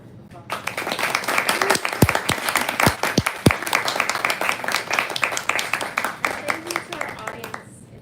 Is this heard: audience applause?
yes